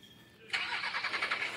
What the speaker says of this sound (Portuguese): Ligamos o caminhão.